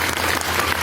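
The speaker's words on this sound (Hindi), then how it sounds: "एक बार जोरदार ताली बजाइए ऐसे महापुरुष के लिए।" A seated audience at a senior citizens' parent-honouring festival breaks into loud, dense applause, a continuous crackle of many hands clapping at once, close and sustained throughout.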